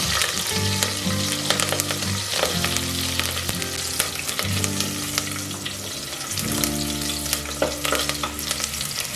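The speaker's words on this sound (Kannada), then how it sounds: "ಫಸ್ಟು ಹಸಿಮೆಣಸಿನ್ಕಾಯಿ ಫ್ರೈ ಆಗಬೇಕು ಚೆನ್ನಾಗಿ." Green chillies and curry leaves fry in hot coconut oil for a Kerala-style chicken sukka, giving a loud, steady, close sizzle with stirring throughout and no talk.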